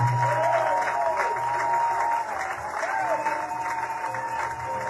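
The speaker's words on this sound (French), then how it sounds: "Est-ce que tu peux acclamer très fort pour le Seigneur?" A church congregation at a Sunday service applauds and cheers for the Lord, with steady loud clapping from a crowd filling the room and a voice speaking over it.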